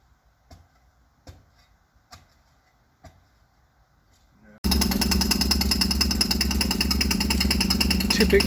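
A pneumatic pipe-boring hammer for UK mains water pipe replacement starts up after a few sparse ticks and clicks, then pounds loudly in a rapid, steady hammering rhythm.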